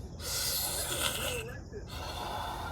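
A voice imitates heavy, out-of-breath panting, with hissing, gasping breaths that are close and moderately loud and run continuously for a few seconds.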